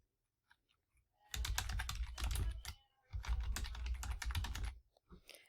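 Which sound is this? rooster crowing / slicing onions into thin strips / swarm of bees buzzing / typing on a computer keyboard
typing on a computer keyboard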